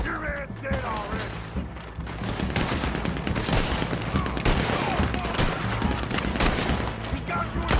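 Dense gunfire from a Red Dead Redemption 2 online mission rattles continuously, overlapping rifle and pistol shots in a busy firefight, with players shouting over the shooting.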